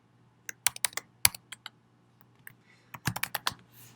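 Keys tapped on a computer keyboard while entering a password: quick close clicks in two short bursts separated by a brief pause, quiet and isolated.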